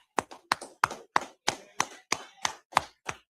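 Steady rhythmic clapping from a small gathering, roughly three sharp claps per second, close and distinct with no voices over it.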